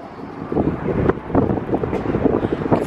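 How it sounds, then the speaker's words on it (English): Strong night wind outdoors in Las Vegas buffets the microphone in loud, low rumbling gusts that swell and ease continuously, with no talk. "Oh, it's so windy outside."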